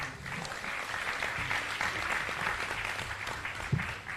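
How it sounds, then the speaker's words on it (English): Audience applause in a salon gathering, a steady patter of clapping hands with a faint murmur of voices beneath, holding at an even level throughout. "Unalo clap for him."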